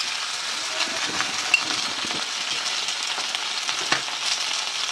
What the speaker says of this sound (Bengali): সিম আর আলু তেলে ছাড়লাম।